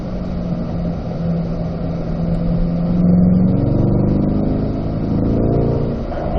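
C8 Corvette race cars roll into the pits, a loud, steady engine drone with a rising, revving tone in the middle and constant mechanical hum throughout.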